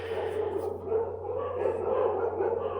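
Dogs bark repeatedly at a TEDx Maitighar event, the yaps mixed into a steady murmur of voices and room noise, moderately loud throughout.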